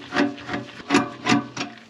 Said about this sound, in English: Underneath the top mounting assembly, there are 3 Phillips screws. We'll have to loosen these ones off.